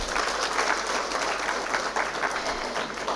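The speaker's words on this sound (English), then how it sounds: "give another round of applause to Professor Kandasamy for that energetic and very energizing presentation" Sustained audience applause at an international research conference at the Open University of Sri Lanka, a dense, steady wash of many hands clapping throughout with no pauses.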